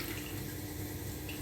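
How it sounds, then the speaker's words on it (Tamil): Water is poured into a rice cooker pot for vegetable biryani, a faint, continuous trickle heard close by with no other sound. "2 கிளாஸ் தண்ணியை ஊற்றிடுங்க."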